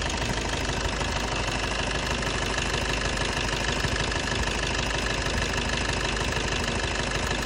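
A Maruti Breeza car engine idles steadily throughout, a dense continuous mechanical drone with faint knocking texture, close and even in level, with no talking.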